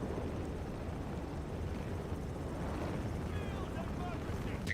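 The Pelican dropship in Helldivers 2 lifts off, a constant loud low engine roar and rumble that stays steady throughout, with faint higher whines near the end.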